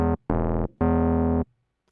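Synth bass from the ZebraCM plugin through a low-pass old-drive filter with overdrive, playing three sustained, buzzy, harmonically rich notes with a bitey attack, the last held longest before cutting off, with no talking.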